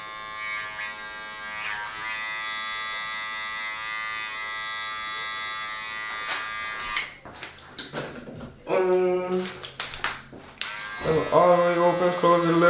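Electric barber clippers buzz steadily while cutting a low taper, the whine shifting in pitch as the blade moves through hair, with a person talking in the latter half.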